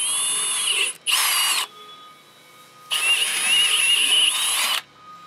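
A power drill bores holes in a Chevelle or second-generation Camaro chassis for larger 3/8 sway bar bolts, whining loudly in two close bursts separated by a short pause, the second one longer and rising in pitch.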